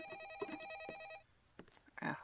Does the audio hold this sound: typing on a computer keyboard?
no